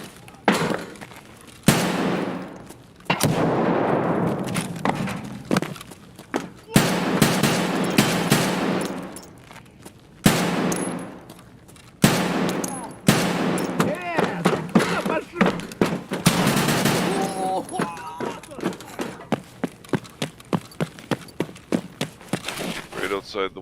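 Rapid gunfire from a first-person shooter game, with bursts of automatic shots and single cracks spread through the clip and a quick run of evenly spaced shots near the end, under ongoing talk.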